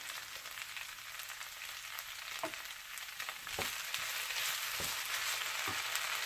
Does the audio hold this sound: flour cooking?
yes